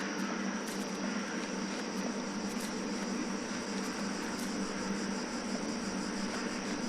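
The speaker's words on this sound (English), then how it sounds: "So are those cicadas?" Cicadas in the horror adventure game The Last Door: a dense, continuous high buzzing drone over a steady noisy bed, fairly loud and unchanging, with faint intermittent clicks and no voices.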